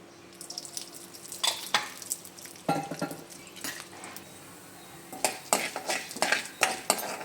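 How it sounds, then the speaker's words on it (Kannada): Chana dal roasting dry in a pan, stirred with a metal spoon that scrapes and clinks against the pan in irregular bursts, close up over a quiet low background. "ನೋಡಿ, ಈ ಥರ ಕೆಂಪಗಾಗೋ ಮಟ್ಟ ಹುರ್ಕೋಬೇಕು ಕಡಲೆಬೇಳೆನ"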